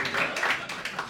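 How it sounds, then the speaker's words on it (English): A small comedy club audience gives brief, light scattered clapping, thin and short-lived, with faint voices mixed in. "You're supposed to clap there, too."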